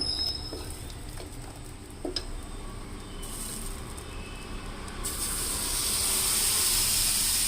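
A steady frying hiss of dosa batter made with masoor dal poured onto a hot pan swells in about halfway through and holds loud and close, with a few soft clinks and taps before it.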